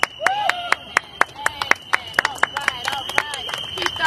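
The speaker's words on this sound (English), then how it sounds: "Keep those applause going" An audience at a Juneteenth press conference claps in scattered, sharp bursts, with a whistle tone running through and voices talking and calling out over the clapping.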